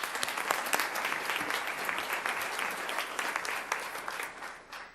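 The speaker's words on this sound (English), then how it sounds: "Let's give her a round of applause." A round of applause fills a school board meeting, sustained clapping from a seated audience that holds steady for several seconds before starting to fade.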